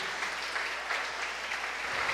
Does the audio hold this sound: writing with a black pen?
no